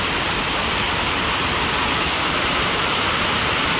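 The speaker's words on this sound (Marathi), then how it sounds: "आणि बघा आता इकडं पाणी चाललं बघ" Rainwater rushes in a steady, dense, broadband flow near a grape orchard during a downpour, loud and continuous with no pauses or talking.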